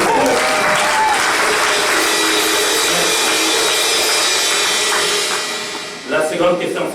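Sustained applause from a congregation at a wedding ceremony, steady and full for about six seconds before it tapers off and faint voices take over.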